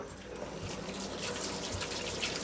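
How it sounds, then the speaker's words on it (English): Boiled ramen noodles are drained through a strainer into a sink, giving a steady, close rush of pouring and splashing water with faint drips. "we're gonna strain it with a strainer, or you can just use a lid, or dump it in the sink and dig it out by hand"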